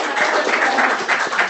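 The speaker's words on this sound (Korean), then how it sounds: "우리 박수로 환영하겠습니다." Brief burst of congregational applause at a Korean church service welcoming a member, many hands clapping close and full for under two seconds with a murmur of voices beneath.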